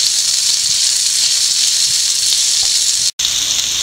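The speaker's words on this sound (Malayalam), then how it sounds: "ഇനി നമുക്കിത് വഴറ്റിയെടുക്കാം" Salt-cooked mutton sautés in a pan with a loud, even, hissing sizzle that runs throughout, briefly cutting out to silence near the end.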